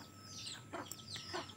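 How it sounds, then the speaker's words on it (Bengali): Chickens clucking nearby in the early morning, two short bursts of cackling calls over a quiet hum, fairly faint. "মুরগিগুলো খুব চেঁচামেচি করছে"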